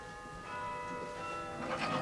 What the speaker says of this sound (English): Those lovely, lovely chimes.